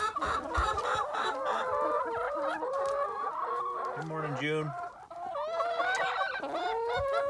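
Hens cluck and squawk continuously in a busy chorus, close by in a deep-litter coop, with a brief low crowing-like call in the middle and a short greeting spoken over them.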